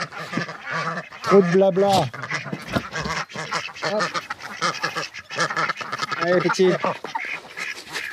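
Several Call ducks quack loudly in bursts close by, mixed with someone talking over them.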